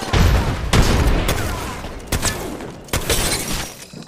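A frag grenade blows up in a video game. Heavy booming blasts and shattering bursts come in quick succession, loud and close, with sharp impacts layered over a rumbling, debris-filled tail.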